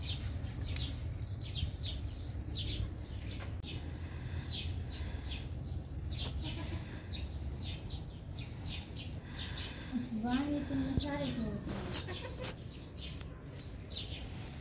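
Chickens cluck and chirp throughout while being fed, over a steady low rumble, with a rising call near the end; the birds sound close and busy.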